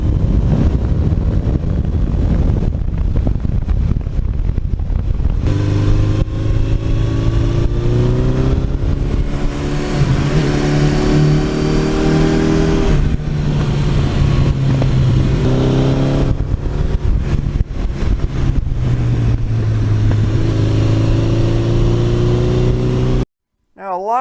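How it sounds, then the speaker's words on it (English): A 1982 Suzuki GS1100E motorcycle fitted with an 86 exhaust system runs nearby with a deep, throbbing rumble that rises and falls as the throttle is blipped, steady and loud until it cuts off near the end. "that 86 exhaust system, I love the little rumble it has over the stock one"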